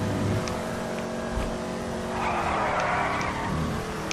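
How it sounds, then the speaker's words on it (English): Rear tires of a rear-wheel-drive muscle car skid in GTA 5, a loud sustained squeal over a revving engine that lasts several seconds, with no talk. "Because of its rear-wheel drive, you get these back skidding, but it's well easy to control."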